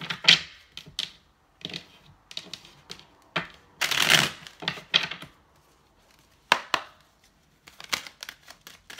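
Tarot cards are shuffled in short bursts of riffling and tapping, close by and separated by brief pauses, with one longer flurry in the middle.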